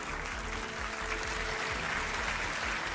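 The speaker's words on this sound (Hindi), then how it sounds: "तालियों के साथ उनका स्वागत कीजिए" A studio audience claps steadily to welcome a senior journalist onto a Hindi television debate show, a dense continuous patter of many hands holding at an even level throughout with no voices.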